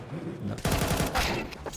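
Rapid gunfire in a Counter-Strike match on the Anubis map, a close burst of several quick shots in succession with a caster's voice talking over part of it.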